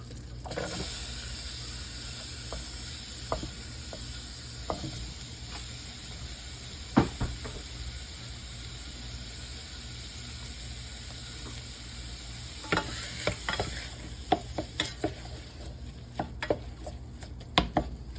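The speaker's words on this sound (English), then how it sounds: "you're going to cook this until your onions start to break down a bit" Chopped onion cooks in butter in a pan, giving a steady close sizzle with occasional sharp scrapes and taps as it is stirred, louder toward the end.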